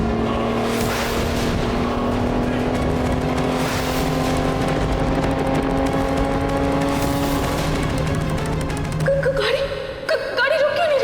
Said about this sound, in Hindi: एक बार पहले ब्रेक मार कर देख लेती हूँ ताकि सही जगह पर गाड़ी रोक पाऊँ